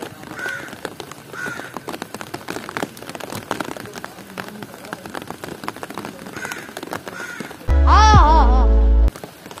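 Rain patters steadily in the background in Karachi while crows caw repeatedly nearby, and a loud tonal electronic chime cuts in near the end.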